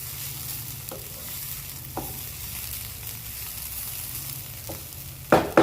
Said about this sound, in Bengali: পুরো 5 মিনিট নাড়বো ঘিতে।